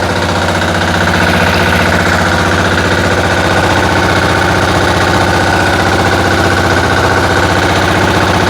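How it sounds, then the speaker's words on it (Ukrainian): A Motor Sich walk-behind tractor engine runs loud and close, a steady, rapid, throbbing mechanical drone that holds without a break. "Тепер вижимаю щеплення, ставлю першу зменшену і ось так будете працювати. Зараз трохи від'їду."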